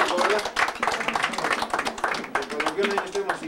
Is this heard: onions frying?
no